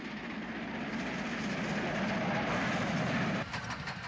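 The 9:55 semi-fast down train rumbles past on the Somerset & Dorset line just south of Tucking Mill Viaduct, a steady rolling roar with faint wheel clicks that eases off near the end.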